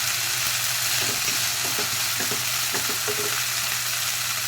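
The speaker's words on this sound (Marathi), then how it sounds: "कांदा लसूण भाजत आलेला आहे त्याच्यामध्ये आता डाळ घालायची तुरीची" Chopped onion and garlic fry in a pan as soaked toor dal goes in, giving a steady close sizzle broken by scattered clicks and scrapes of stirring, with no voices.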